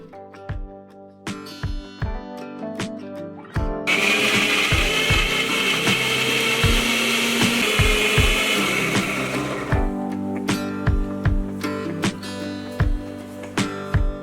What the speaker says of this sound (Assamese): এতিয়া আমখিনি মই মিক্সাৰত দি ভালকৈ এটা পিউৰি বনাই লৈছোঁ